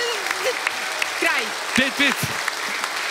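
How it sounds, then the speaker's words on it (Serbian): Steady audience applause at a live singing competition show after the jury votes, a dense wash of clapping running under a voice speaking briefly. "Aplauz traje, kraj glasanju"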